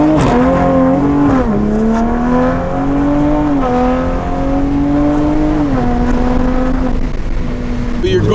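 A 2020 Toyota Supra fitted with an AFE intake drives with a loud, steady engine drone whose pitch rises and dips as it shifts and changes speed, heard close from inside the car.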